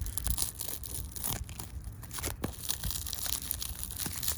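Knife packaging is torn open close by, with continuous crinkling and ripping of plastic and paper. Sharp tears and crunches break through the sound for several seconds.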